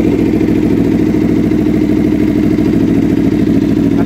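A 2016 Aprilia motorcycle engine, freshly back from the mechanic with its injector cleaned, runs close up with a loud, steady, rapid mechanical pulse and clatter throughout.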